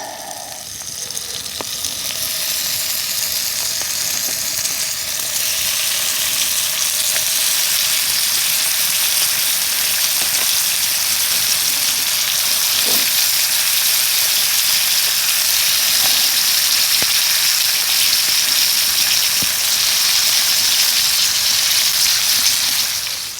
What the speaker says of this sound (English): Bacon is cooking away.